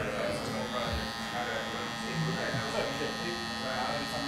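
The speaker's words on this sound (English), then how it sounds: "This is always like a character judgment if I should run a trimmer in that area." An electric hair trimmer edging a haircut gives a steady, close buzzing hum that holds throughout, with people talking over it.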